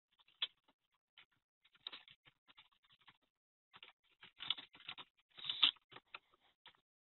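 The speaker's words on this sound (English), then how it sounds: "I can come in and I can start typing in a comment here" Fingertips tapping a comment on a mobile phone touchscreen, soft irregular clicks in small bursts, quiet and close, with no speech.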